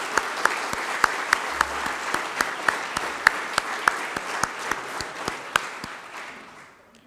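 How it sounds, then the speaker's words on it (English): A lecture audience applauds together, dense clapping with a few louder individual claps standing out, fading toward the end. "So please join me with a big round of applause first."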